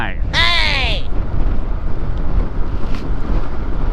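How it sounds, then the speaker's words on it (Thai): Strong wind buffets the microphone while riding a scooter through heavy morning traffic, a loud, steady roar with a brief high whine near the start and a short faint voice. "ลมค่อนข้างแรงฮะรถก็เยอะด้วย"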